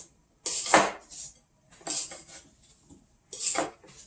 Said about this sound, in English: Now we're going to stir all this up